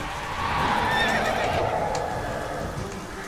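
A horse whinnies loudly with a rising, shaky neigh over steady background ambience, with faint hoof clops mixed in, in The Witcher 3: Wild Hunt.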